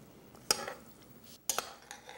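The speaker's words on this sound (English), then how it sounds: "And stir that in." Hominy and chili casserole being stirred in a cooking pot: two distinct scraping clatters of a spoon against the pot about a second apart, with quiet background between.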